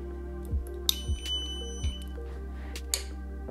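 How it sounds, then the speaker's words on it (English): A ZWO AM5 telescope mount powers on with a short, thin electronic beep over a low, steady hum, followed by a few faint clicks. "we hear that nice little beep saying that things are coming online"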